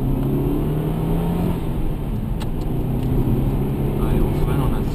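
Race car on a track on its final lap, slowing under gentle braking before heading into the pits. Steady loud engine drone and road noise from onboard, holding nearly constant throughout, with a voice talking over it at times.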